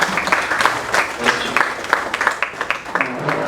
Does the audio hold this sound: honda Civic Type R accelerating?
no